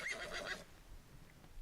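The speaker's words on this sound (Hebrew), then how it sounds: "זה סוס." A horse gives one brief, high whinny lasting about half a second, then near silence follows.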